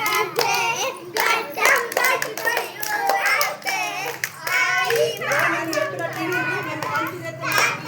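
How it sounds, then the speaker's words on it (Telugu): Children clap their hands together during a singing game, quick claps mixed in with steady high children's voices and playful chatter throughout. "చప్పట్లు కొట్టింది"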